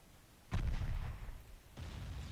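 A torpedo launched from a warship in the naval battle game Ultimate Admiral Dreadnoughts, heard as a sudden heavy low boom followed by rumbling and a second thump, with no talk.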